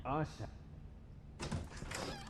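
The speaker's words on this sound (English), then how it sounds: "let's open the door." A door opens in The Wolf Among Us video game with a brief broadband creak and shuffle of moderate loudness, following a short burst of voice at the start.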